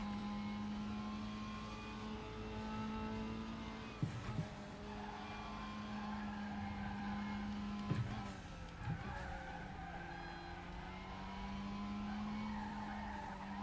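A Mazda MX-5 races in the RaceRoom sim with a steady engine drone and a sustained high tire squeal as the car skids through a long corner, the pitch shifting at a few gear changes.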